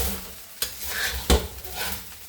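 Fried rice with egg is stir-fried in a pan: a bright sizzle carries through, broken by two sharp scraping clacks of the utensil against the pan, with no one speaking.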